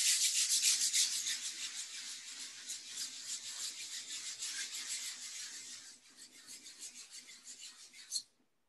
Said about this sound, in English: I give it a good sanding